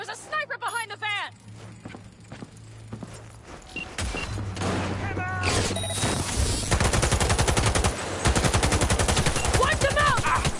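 Gunfire rings out in the video game Cyberpunk 2077 during a firefight with a sniper behind a van, sharp cracks giving way to rapid, loud bursts of automatic fire in the second half, with shouted voices and other game sounds around them.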